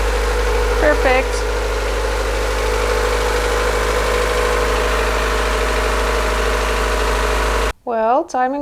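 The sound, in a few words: Honda Civic D14 engine idling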